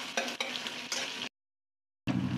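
Onions frying in a pan for fried rice, a close crackling sizzle with stirring scrapes, cut off by a brief silent gap before the frying resumes.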